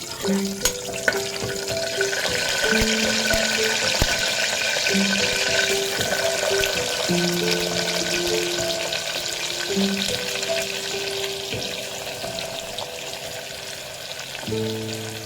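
Onion frying in a pan with curry leaves until golden for Malvani-style misal, a steady sizzle throughout with occasional stirring clinks and a repeating tonal hum in the background.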